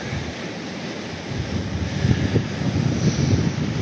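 Steady roar of Baltic surf washing in at Cape Arkona on Rügen under gusty wind buffeting the microphone, with low rumbling swells rising and falling throughout.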